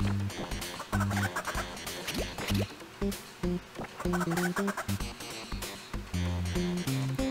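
Cartoonish chickens clucking in the ToeJam & Earl video game, repeated bursts of clucks over bouncy game music that plays steadily throughout.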